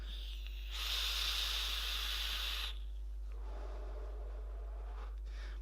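A long, strong airy hiss of a draw on a BoomStick Reaper 18mm RDA in dual coil mode at 0.5 ohm with airflow wide open, followed by a softer exhaled breath.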